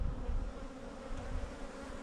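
Honeybees buzz around the entrances of newly installed hives, a soft, continuous, low hum from many insects at close range, with no voices.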